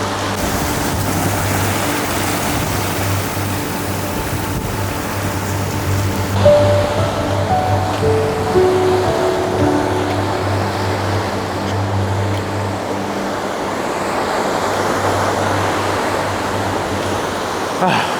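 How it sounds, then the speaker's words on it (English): Steady ocean surf at a beach, broadband wash of waves rolling continuously with a low rumble, fairly loud and constant throughout, no talking. "we're back here at the same beach"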